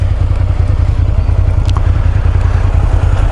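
A motorcycle engine rumbles loud and steady while being ridden on a big bike on a fine day, a continuous low throbbing drone with road and wind noise and no pauses.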